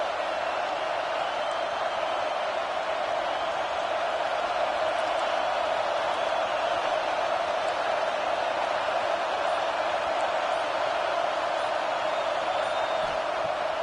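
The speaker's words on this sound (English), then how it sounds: "This crowd bringing the energy and noise early." Stadium crowd roar in a college football video game, a loud, steady wash of cheering that holds without a break throughout.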